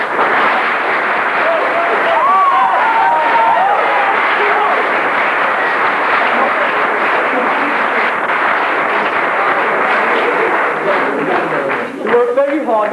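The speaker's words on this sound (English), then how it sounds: "give him one more round of applause" Sustained applause from a school revue audience, steady and dense for the whole stretch, with a few voices and cheers mixed in near the end.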